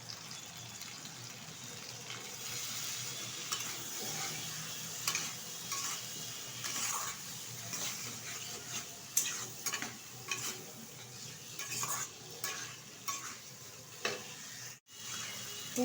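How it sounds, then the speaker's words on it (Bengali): Potato, onion and tomato stirred together in hot oil in a pan for a home-style desi chicken curry, a steady sizzle and frying crackle broken by repeated scraping stirs, close and alone with no talk. "আলু, পেঁয়াজ আর টমেটোটা একসাথে আমি তেলের সাথে নেড়ে চেড়ে নেবো বেশ কিছুক্ষণ"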